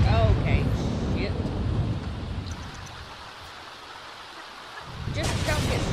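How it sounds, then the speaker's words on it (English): Rain falls in The Sims 4 video game, a steady wash of downpour with rolling thunder and a low rumble that fades midway, then swells again near the end. "it rains all the damn time in this game"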